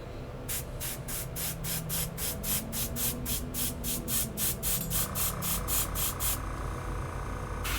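Airbrush driven by a compressor sprays paint onto a costume in short, evenly spaced hissing bursts, close and moderately quiet over a low steady hum, ending in a longer continuous spray.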